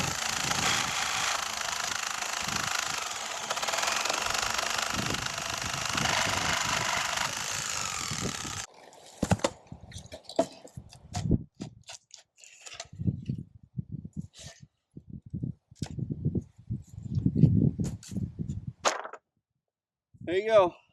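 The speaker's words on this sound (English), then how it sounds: "use a sawzall and a metal cutting bit and just cut right through the nails to take off the existing boards" A sawzall fitted with a metal-cutting bit buzzes loudly and continuously through pallet nails to free boards for a runner duck house, then cuts off, leaving scattered knocks and handling noises.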